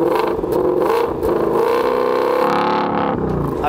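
A Ford Mustang Shelby GT500 V8 revs hard close by, with a rising engine roar that swells, dips briefly, then climbs again in a strong throaty whir. No voices are heard over it.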